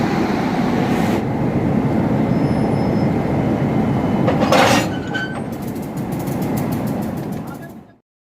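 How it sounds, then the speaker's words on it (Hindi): Locomotive coupling onto the LHB coaches of the Coromandel Express at a station: a steady rumble of rail machinery with a couple of metallic clanks and hissing bursts, then abrupt silence at the end. "अभी बारी है लोको कपलिंग की।"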